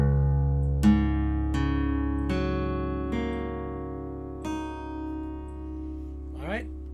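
Guitar strings on an acoustic guitar, the low E tuned down to drop D, are plucked one at a time, about six ringing notes over a low sustained drone, each decaying before the next, with a short string slide at the end.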